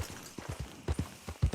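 Horse hooves clip-clopping in the open-world game Red Dead Redemption 2, a quick uneven run of close, soft thuds that grows louder toward the end, with no talk over it.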